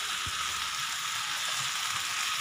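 Ivy gourd (dondakaya) frying in a pan for dondakaya ulli karam, giving a steady, close hiss of oil that carries on without a break for the whole stretch, with no talking.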